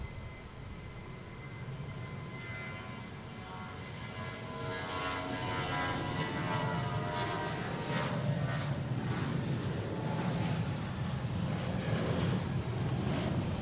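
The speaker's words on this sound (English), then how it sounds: "Just had the Air Portugal just land here." An Air Portugal airliner lands at Boston Logan airport, its broad jet roar swelling steadily over several seconds and staying loud and sustained as it passes at a distance, with no talk.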